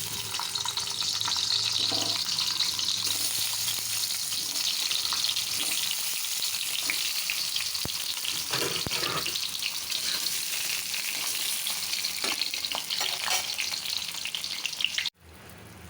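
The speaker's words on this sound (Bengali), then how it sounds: "পটলটা আমার পুর ভরা হয়ে গেছে এগুলো এখন ভাজবো" Stuffed pointed gourd, potol dolma, sizzles steadily in hot oil, a dense, continuous frying hiss that stays loud and close throughout, ending abruptly near the close.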